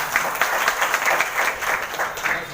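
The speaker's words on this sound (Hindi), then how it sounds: "जोरदार तालियां।" Steady applause from a crowd, a continuous wash of clapping throughout with no voices.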